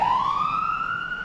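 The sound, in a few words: ambulance siren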